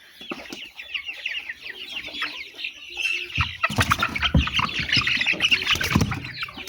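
Chicks in a poultry farm flock, one a stunted, sick chick, cluck and peep in quick high chirps, growing busier and louder toward the end with scuffling among the birds.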